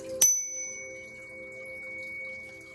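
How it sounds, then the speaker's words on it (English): A single bell struck once with a sharp attack, then a clear ringing tone that decays slowly and sustains for a couple of seconds in a quiet indoor room. "I'm going to ring the bell"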